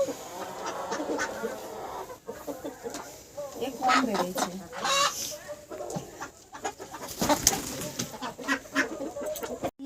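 Desi chickens of a good breed cluck repeatedly in a home yard, including a small black-legged, black-bodied bird, with someone talking over them throughout.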